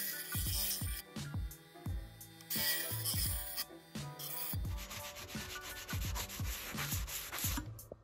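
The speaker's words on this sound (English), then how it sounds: "I've got a grinder here" A grinder smooths a cut edge of thin stainless steel in quick, repeated rasping strokes, a close, rhythmic scraping that continues steadily.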